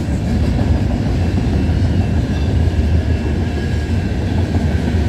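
A train rumbles past at night on the way to St. Luc Yard in Montreal, a loud, steady, close roar of wheels and engine that fills the whole stretch without a break.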